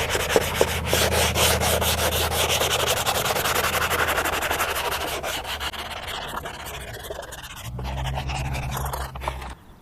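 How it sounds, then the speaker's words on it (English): Continuous scratchy rubbing of a sanding block against a car's fabric headliner, rasping back and forth in quick strokes, close and fairly loud with a low hum underneath. "That sanding block actually worked really well on this."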